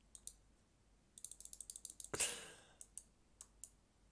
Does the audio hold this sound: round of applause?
no